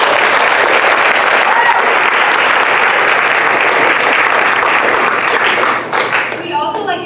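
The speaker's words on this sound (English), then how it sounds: "Can we get another round of applause?" A school theatre audience claps loudly and continuously after a stage show, dense sustained applause that thins and fades toward the end.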